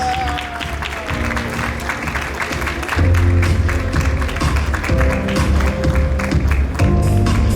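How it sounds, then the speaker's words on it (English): Audience clapping at a Mr. World Jamaica coronation ceremony, a steady patter of hands under loud music with a pounding bass beat that grows stronger partway through. "Give him another round of applause"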